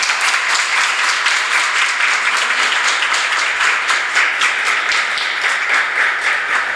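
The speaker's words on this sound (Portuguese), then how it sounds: "eu acho que merece uma salva de palmas para todos nós e para o IBC" A seated audience applauds at the close of a September event, loud continuous clapping with a crisp, even texture that holds steady from start to finish.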